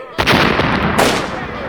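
Loud booming gunfire, a couple of heavy shots rolling into a sustained rumble, close and forceful.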